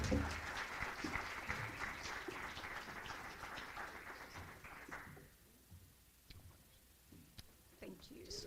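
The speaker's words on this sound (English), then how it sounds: "Please now join me in giving the best round of applause that you can possibly give to Kim Pate, our new athletic director." Applause at a university event introducing a new athletic director, fairly faint and distant clapping that thins out midway, with scattered taps and murmuring afterward.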